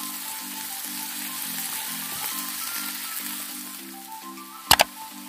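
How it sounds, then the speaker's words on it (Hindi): Sliced bell peppers and carrots sizzle steadily in a hot pan, a close, even frying hiss with a brief clack of a utensil near the end. "शिमला मिर्च को डालेंगे, कैरेट्स डालेंगे, तो मिक्स कर लेंगे, थोड़ा सा स्टेयर कर लेंगे"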